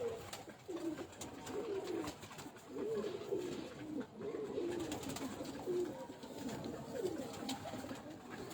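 Domestic pigeons of a Teddy-cross breeding pair coo softly and steadily in a loft. The low rolling coos repeat throughout at moderate distance, and no one speaks.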